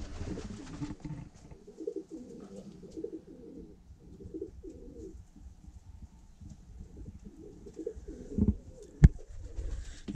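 Pigeons coo in a dovecote, their soft repeated low calls rolling in a steady rhythm at moderate distance, with faint rustling and a sharp knock near the end.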